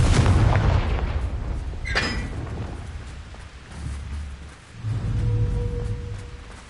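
Confringo spell in the Hogwarts Legacy video game, a loud booming explosion with heavy low rumble, a crackling burst near two seconds, and further deep thuds that fade and swell again.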